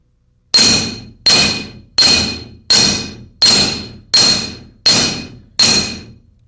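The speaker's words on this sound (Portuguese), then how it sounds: "As marteladas são dadas do centro da tira para as extremidades." Eight evenly spaced hammer blows ring out on a metal strip laid on a block as it is straightened, each a sharp, loud clang that decays before the next strike.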